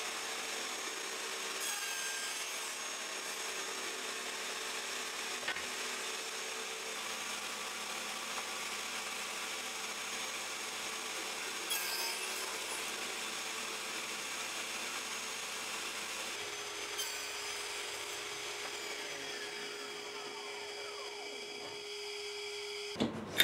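A hand saw cuts steadily through a wooden board in a continuous rasping run, close and moderately loud, with a few small knocks and no talk.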